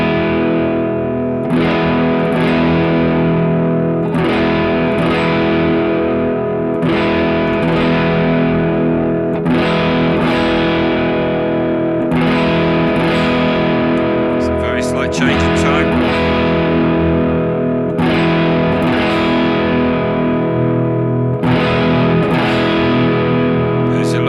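An electric guitar goes through a BOSS GT1000 while its EQ is adjusted, strummed in steady repeated distorted chords whose tone shifts as the settings change.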